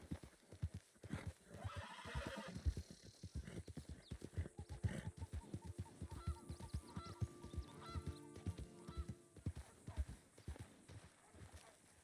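Wild horses in Red Dead Redemption 2 near Blackwater, with steady hoof clip-clop, neighs and whinnies over game ambience, plus honking fowl and a voice speaking at times.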